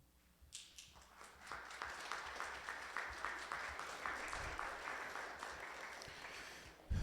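Applause from an audience at a Mille Lacs Band of Ojibwe candidate forum, a steady, moderately distant patter of many hands clapping that builds and holds over several seconds.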